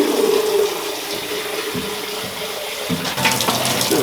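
Running water splashes steadily as a polystyrene bee hive is rinsed off after a bleach wash, a close, continuous gushing with small knocks and shifts in the flow.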